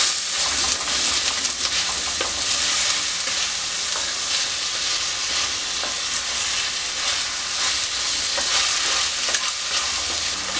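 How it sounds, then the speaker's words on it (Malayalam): Cut potatoes and prawns sautéing in a pan, a steady loud hiss of sizzling oil throughout with soft scrapes and stirring clatter, no voices. "ഇതൊന്ന് വഴറ്റി കൊടുക്കാം."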